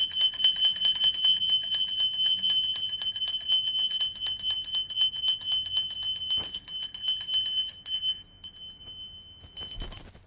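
A bright metallic bell rings continuously in a rapid, steady trill for about eight seconds, then stops and gives a few shorter, fainter rings near the end, with no voices.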